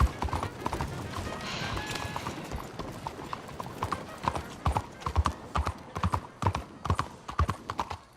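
Horse hooves clip-clop at a steady walking rhythm in Red Dead Redemption 2, with a golden horse close and clear, the hoofbeats growing sharper and more pronounced toward the end.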